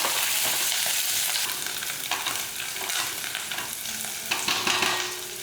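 Curry leaves, small shallots and garlic sauté in a pan for a pirandai kuzhambu, a close, hissing sizzle broken by scraping stirs that grow busier toward the end.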